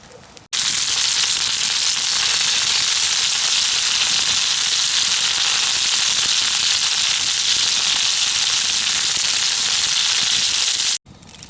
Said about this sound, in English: I'm gonna try to get some more of this fire spread.